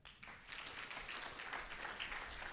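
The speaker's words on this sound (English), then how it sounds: "A big round of applause for Mr. Jerome." Audience applause at a university graduation ceremony, a dense, steady wash of clapping from a large crowd lasting a few seconds, fairly distant and even.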